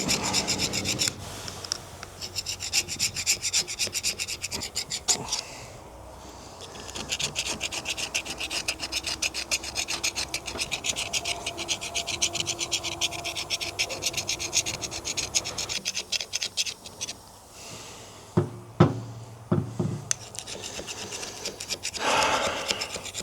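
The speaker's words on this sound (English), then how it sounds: "I'm just going to take the paint off this shaft." Scraping paint off a Caterpillar 933 shaft: continuous close rasping and rubbing strokes in a steady rhythm, with a brief lull and a few sharper knocks near the end.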